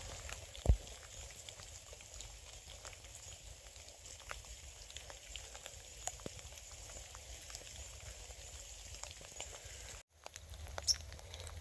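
Steady soft patter of rain on a Vancouver Island beach, with scattered sharper drop taps, fairly faint and continuous, with no one talking.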